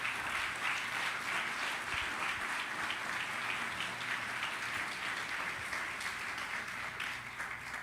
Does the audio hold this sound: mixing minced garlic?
no